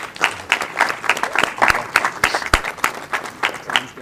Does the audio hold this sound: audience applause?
yes